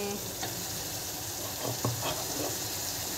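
Garlic-ginger paste and masala frying in a pan, a steady low sizzle with a few soft stirring knocks, close and fairly quiet.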